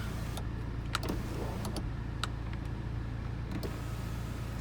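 Electric motor of a panoramic sunroof opening on a 2020 Volvo S60, a steady low whir inside the cabin dotted with faint clicks and ticks, with no talk.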